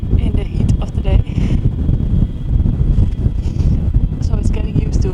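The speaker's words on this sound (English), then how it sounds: "now it is a sandstorm in the heat of the day" A sandstorm wind in the Sahara desert roars in the heat of the day, buffeting the microphone with heavy, constant low rumble and gusts, close and loud throughout.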